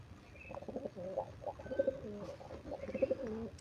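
A pigeon coos nearby in soft, repeated throaty phrases, rising and falling in a rolling rhythm over a quiet background.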